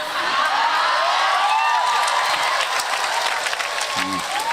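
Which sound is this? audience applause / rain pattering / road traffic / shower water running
audience applause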